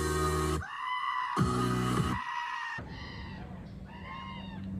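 Goats give loud, human-like screaming bleats, several drawn-out cries one after another, close and harsh, with short gaps between calls.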